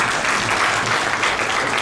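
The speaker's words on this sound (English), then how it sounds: "This deserves a round of applause" Audience clapping at a farewell gathering for an ambassador, held by the Indian community in Riyadh: a short, dense, loud burst of many hands with no voices.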